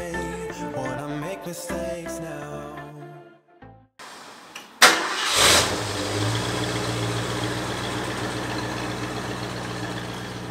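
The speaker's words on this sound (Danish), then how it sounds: "Det lyder seriøst bare lækkert hver eneste gang bilen den starter op." A Ford Mustang's engine cranks and fires up after a short pause, surging to a loud rev before settling into a steady, rumbling idle close by.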